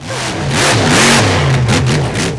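A smaller monster truck's engine revs loudly up and down in repeated surges, close and unbroken for a couple of seconds, with no talking.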